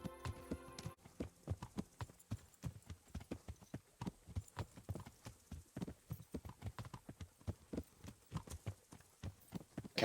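Horse hooves clip-clop steadily in the Kingdom Come Deliverance video game, a close, even rhythm of hoofbeats that runs the whole way through after a brief tonal sound at the start.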